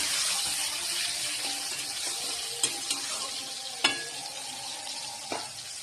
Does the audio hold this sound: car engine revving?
no